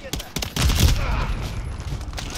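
Rapid gunfire in the Modern Warfare III video game, a loud, close burst of sharp cracking shots fired in quick succession over about two seconds.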